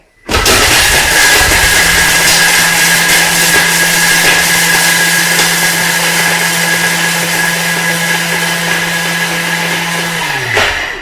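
A Thermomix spins up abruptly to speed 10 chopping bread into breadcrumbs, a loud, high-speed whirring roar holding a steady pitch before winding down at the end.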